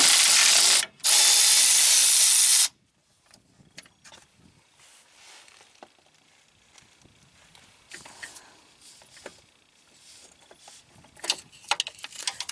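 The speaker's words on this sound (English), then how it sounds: "I'm going to use my Milwaukee Fuel 3/8 cordless ratchet just to make things easier." A Milwaukee Fuel 3/8 cordless ratchet unbolts a wire bracket on a Cummins engine during a fan clutch replacement, giving two loud, close bursts of whirring ratchet motor, then quieter clicks and tool handling.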